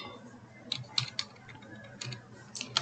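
Keys tapped on a computer keyboard while entering a program, a few scattered clicks and short bursts of strokes at moderate distance over a quiet room hum.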